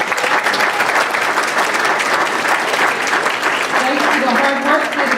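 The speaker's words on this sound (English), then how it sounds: "Can we give you another round of applause for all the principals, and administrators, and teachers who are present tonight" A school board meeting audience gives dense, sustained applause for principals, administrators and teachers, loud and continuous throughout.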